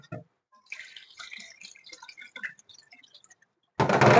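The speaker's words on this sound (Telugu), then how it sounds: "ఈ విధంగా నొక్కి నొక్కి శుభ్రంగా కడగాలి" Toor dal is washed by hand in water, with small wet drips, clicks and squelches of the lentils being pressed, followed by a louder burst of running or pouring water at the end.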